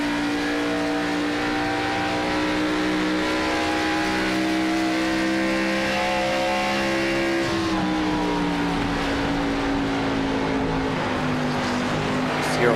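Onboard engine of a Rush Championship Series race car in a race, loud and steady at high revs, easing off briefly near the middle before pulling strongly again, with no talk.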